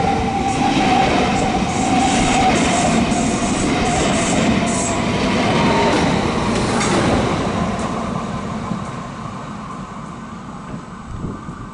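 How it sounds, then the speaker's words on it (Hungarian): Z72 passenger train heading toward Esztergom rumbles past close by, a steady loud roll of wagons with faint wheel squeal that gradually fades over the last few seconds. "Esztergom felé megy az Z72-es"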